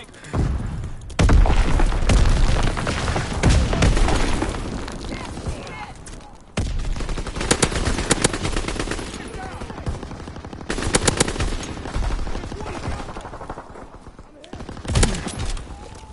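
Gunfire in the World War II shooter game Call of Duty WWII, loud bursts of machine-gun fire and single shots in clusters with booms, with players talking over it.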